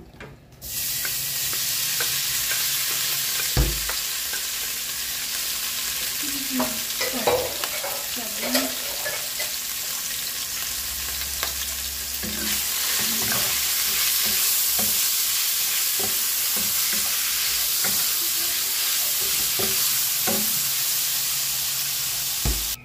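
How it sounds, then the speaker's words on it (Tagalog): Ground pork mince frying in oil in a pan for carbonara, a steady close sizzle and hiss with scattered scraping stirs throughout. "Next sa oil ay ang ating giniling."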